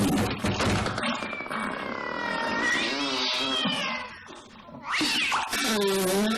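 Cartoon cat meowing in long, drawn-out, wavering cries, loud and close, two sustained calls with a brief dip between.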